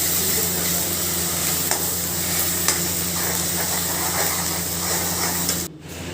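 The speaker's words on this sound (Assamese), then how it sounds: "মছলা পেষ্টখিনি ভালদৰে লৰাই ভাজি দিছোঁ।" Masala paste with turmeric fries in oil in a pan for a soybean curry, making a steady, close, moderate sizzle with a few faint scraping clicks of stirring and no voices.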